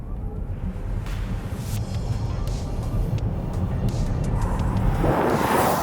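A 2022 Hyundai IONIQ 5 electric car accelerates hard in sport mode, a steady broadband rush of road and wind noise building louder, with a rising whine toward the end.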